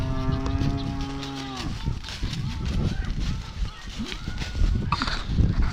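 Cattle moo loudly and repeatedly during a cattle move, drawn-out calls up close, with outdoor rustling and faint movement around them.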